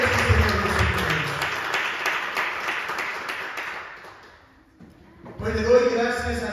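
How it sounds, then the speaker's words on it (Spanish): A church congregation gives a loud round of applause. Dense clapping runs for about four seconds and then fades, and a voice starts speaking over the quiet that follows. "le damos otro aplauso más fuerte"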